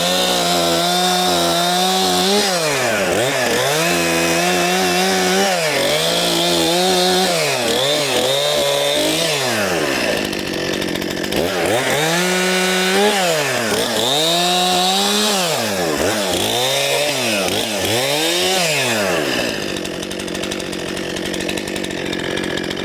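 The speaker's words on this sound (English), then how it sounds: "So a couple small cuts with the chainsaw" A chainsaw buzzes loudly, repeatedly bogging down and revving back up as it bites through wood in several cuts, with brief idling pauses between them.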